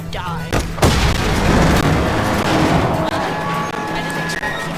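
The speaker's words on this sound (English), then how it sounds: "I didn't expect for the explosion to be that big." Red barrels explode in the video game Just Cause 3, a loud booming blast followed by a long rumbling, crackling roar with scattered debris, with no talk over it.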